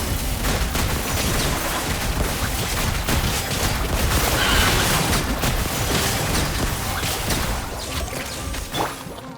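Video game gunfire, a loud dense fusillade of rapid shots and crashing impacts, sustained throughout and easing slightly at the end.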